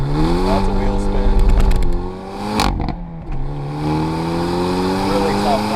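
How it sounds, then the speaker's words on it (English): 2024 Hyundai Elantra N accelerating hard in first gear with wheel spin and wheel hop, the engine revving loud and close, then a sudden break and clatter as the throttle is lifted, before the engine settles into a steady drone. "Lots of wheel spin."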